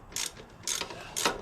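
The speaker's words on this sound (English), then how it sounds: "Take this upper shock bolt out," Three quick ratchet bursts, each a crisp run of pawl clicks, as a 12mm upper shock bolt is loosened on a Honda Helix scooter during engine removal; close and fairly loud with brief pauses between strokes.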